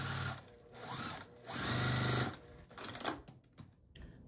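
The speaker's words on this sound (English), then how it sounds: "I'm going to sew with my seam pressed open" A sewing machine stitches a quilt block seam pressed open for a barn star sampler block, running in steady bursts with short pauses between runs, close and alone without talk.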